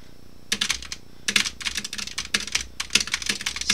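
Rapid, dense keystrokes clatter on a SteelSeries Apex Pro keyboard during osu!mania play, coming in close, loud bursts of fast repeated taps with brief pauses between runs.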